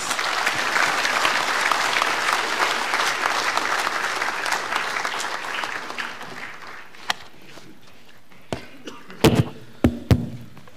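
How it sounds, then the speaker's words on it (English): A university audience gives a sustained round of applause for the visiting Prime Minister of Papua New Guinea. The clapping fades over several seconds into a few scattered claps and some thumps and knocks. "Let's give him a round of applause."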